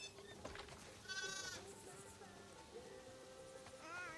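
Sheep in the video game The Last of Us Part II bleat several times near a farm barn, wavering calls rising over quiet background noise, with a voice speaking in between.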